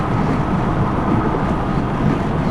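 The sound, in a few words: Honda PCX150 scooter engine hitting the rev limiter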